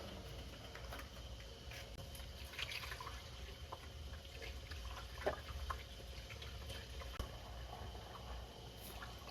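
Antifreeze is poured into an engine with a quiet, steady trickle and a few faint drips, a low continuous liquid sound close by and without talk.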